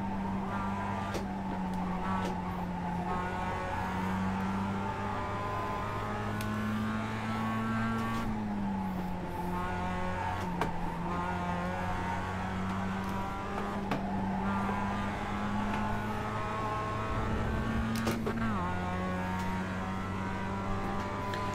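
A race car in iRacing at Bathurst holds a steady, droning engine note throughout, with a couple of brief pitch drops like gear shifts and scattered sharp clicks, and no talking.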